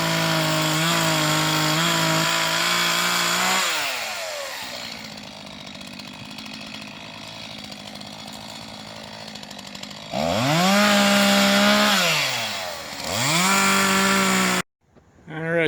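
A chainsaw cuts up a storm-damaged tree after a windstorm, loud and close, revving hard in bursts with a quieter idling stretch between cuts and a sudden stop at the end.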